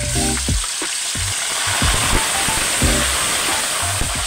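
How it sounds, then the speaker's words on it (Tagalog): Tofu (tokwa) sizzling and frying in hot oil, a steady close crackle and hiss throughout with a few low knocks and clatters of cooking utensils. "At lang ipiprito itong tokwa"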